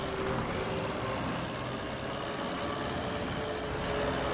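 A farm vehicle in Farming Simulator 22 drives along with a continuous low engine drone and road rumble, steady and moderately quiet with no talk.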